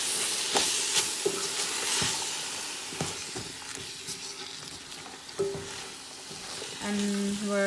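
Chow mein with grated carrot is stirred in a frying pan, a steady sizzle with repeated scraping clicks of the utensil throughout, close up and alone.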